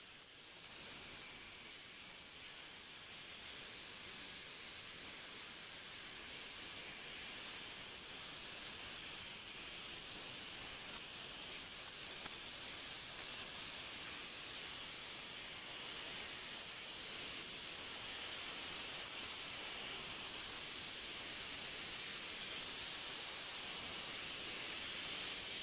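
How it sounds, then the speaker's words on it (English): A shop vac pulls dust off a Sony KV-27FS120 27-inch TV circuit board through clear tubing. It makes a continuous, even airy hiss that holds for the whole stretch and swells a little toward the end. "I have some of this clear tubing hosed from my shop vac, and I just sort of wedged it in there."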